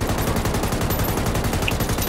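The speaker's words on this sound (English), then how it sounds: "I'm hitting him with a Ukrainian AK-47." AK-47 rifle gunfire in a video game, a rapid loud burst of automatic shots in fast even rhythm, close and continuous across the whole stretch.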